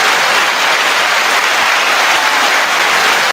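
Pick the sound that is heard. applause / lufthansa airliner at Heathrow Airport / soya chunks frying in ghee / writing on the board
applause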